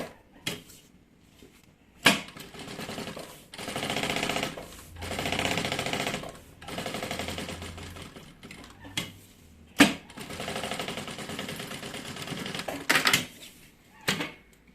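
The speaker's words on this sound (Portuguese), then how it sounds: "Já vou fazer essa costura aqui dos 4 lados." Sewing machine stitching a seam around the lining of a bag, running in several close bursts of rapid mechanical whirring separated by short pauses and clicks, with no talk.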